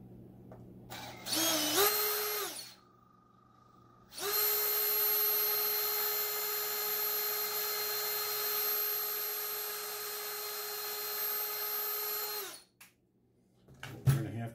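A power drill countersinks screw holes in a Rockston Sideloader pachinko ball lifter kit part: a short whirring burst, a pause, then a long sustained drilling whine before it spins down, close and loud.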